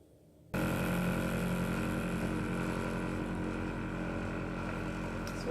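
A candy floss machine spins coloured sugar with a steady, loud mechanical whir and hum that starts abruptly and holds constant, alone without talk.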